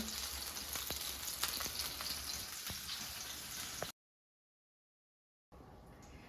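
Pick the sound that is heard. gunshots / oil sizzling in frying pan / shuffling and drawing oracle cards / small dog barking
oil sizzling in frying pan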